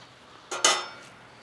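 A spoon clinks twice against a pan as a flambéed steak au poivre sauce with bourbon is stirred, two short close metallic knocks and scrapes in near silence.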